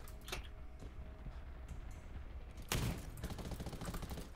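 Gunfire in the Undawn survival shooter during a firefight at a bridge on an island map: faint scattered shots at first, then a loud, sustained burst of rapid firing that continues to the end.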